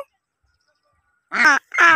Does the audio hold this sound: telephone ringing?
no